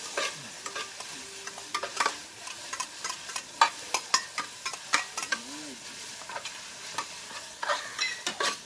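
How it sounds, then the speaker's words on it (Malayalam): Green chillies, tomato and spice paste fry with a steady sizzle in a pan while a spoon stirs and scrapes in quick, irregular strokes, cooking for a Kerala egg roast. "പച്ചമുളക് ഇടാം, തക്കാളി ഇടാം. ഈ പേസ്റ്റ് ഒന്ന് ഇടാം."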